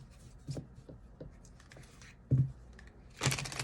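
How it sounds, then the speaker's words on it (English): A Pendulum Answers card deck is shuffled close and quietly in a few soft rustling bursts, ending with a louder, brighter riffle. "So I'm just going to give it a good shuffle."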